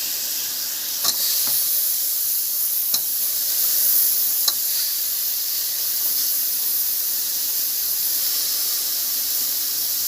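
Masale bhat with rice, spices and cut potatoes is stirred in a hot pan, giving a loud continuous hissing sizzle with a few sharp spoon scrapes and clicks, close and without talk.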